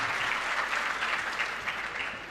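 An audience at the opening of a textile exhibition in Istanbul breaks into steady applause, a brief, dense burst of many hands clapping with no voices over it.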